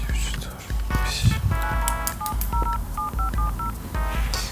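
A sequence of telephone keypad tones beeps in quick succession, with short pauses between presses, while faint voices and rustling sit underneath.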